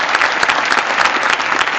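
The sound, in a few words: audience applause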